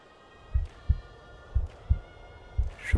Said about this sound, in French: Je pouvais entendre battre le cœur de ma grand-mère